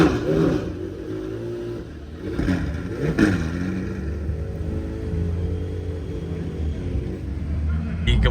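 An engine rumbles and revs nearby on a street during Monterey Car Week as a supercar moves past, a loud low drone with rising revs, partly under people talking.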